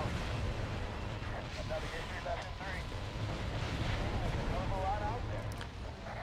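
Bombing explosions in the combat flight game Ace Combat: Assault Horizon, a dense rolling roar of blasts and rumbling booms that stays loud and continuous with no clear gaps.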